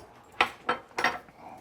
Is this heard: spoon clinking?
yes